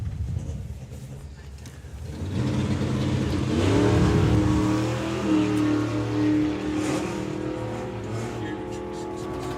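A Model A delivery van drag car from a Friday drag racing festival runs down the track, its engine rising to a loud sustained revving drone that slowly fades, with a commentator talking over it.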